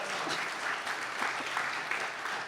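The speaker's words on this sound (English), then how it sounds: "Round of applause." A live audience breaks into steady applause at a talk event, with a full, continuous patter of many hands at moderate loudness and no voices over it.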